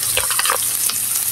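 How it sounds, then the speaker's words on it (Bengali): Garlic frying lightly in a pan with onion, a steady sizzle with soft stirring scrapes over about a second, close and alone. "রসুনটাও হালকা একটু ভেজে নিব।"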